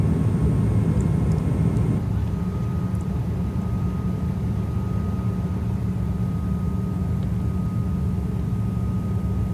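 Steady, loud broadband roar inside an Ethiopian Airlines airliner cabin in flight on the Bangkok to Hong Kong route, banking into a turn, with a constant low engine and air rumble filling the whole stretch and no talking.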